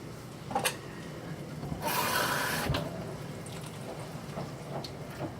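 Water pours briefly into a pot with a short rushing splash, surrounded by quiet kitchen clatter and soft background hiss.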